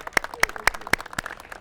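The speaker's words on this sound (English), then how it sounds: "Round of applause for Councilmember Whitburn" Sparse, scattered handclaps from a small crowd at a San Diego city event welcoming a councilmember, a few sharp claps spaced out over a couple of seconds rather than full applause.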